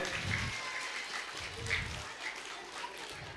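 Moderate applause from an audience at an annual day celebration of a municipal middle school in Vellore, fairly faint and continuous over background murmur.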